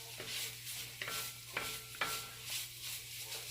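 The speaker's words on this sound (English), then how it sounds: "Now I'll bring my garlic in together with everything else like this." Garlic sautéed with other ingredients for a Tex-Mex tamale pie is stirred in a pan, a steady sizzle punctuated by a few sharp utensil scrapes and knocks roughly every half second, close and moderately quiet.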